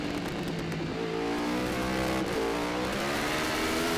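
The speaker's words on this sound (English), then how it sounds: "Ricky Cory still holding on to that lead, but Siglin is all over his rear wheel" Formula Pacific racing motorcycle engines at a race, high-pitched revving whine with shifting pitch as bikes pass, loud and continuous, no talking.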